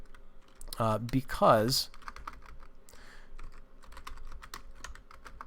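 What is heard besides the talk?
typing on a computer keyboard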